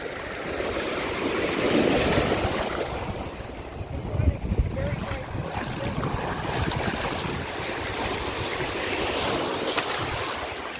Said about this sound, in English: Water's like crashing over me now.